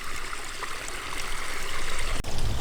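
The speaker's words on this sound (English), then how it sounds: "it's running from the top here all the way down into a pool, which then just refilters or flows the water back up" Garden water feature at a water garden centre, water running from the top down into a pool; a steady, close rushing and trickling flow fills the clip without talk.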